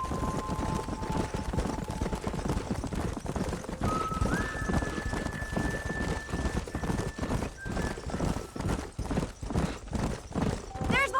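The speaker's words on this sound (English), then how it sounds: "There's the horses!" Horses galloping in the Red Dead Redemption 2 video game, rapid rhythmic hoofbeats close by with a whinny, mixed with game music tones and voices talking over the action.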